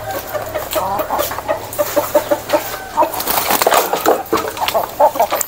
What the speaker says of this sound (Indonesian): Ayamnya berantem rebutan makanan.